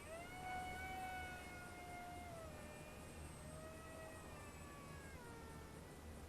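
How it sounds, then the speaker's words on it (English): A small electric RC airplane motor whines in flight, its thin harmonic tone gliding up and down in pitch as the plane maneuvers, moderately distant over steady outdoor background noise. "that little motor really powers up, doesn't it?"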